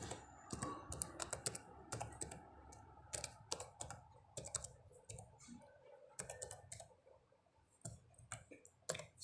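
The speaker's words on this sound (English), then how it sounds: "So I'll type my email ID now." Keys clatter on a computer keyboard as an email address is typed at a student login screen, with bursts of quick clicks broken by short pauses, close and fairly quiet.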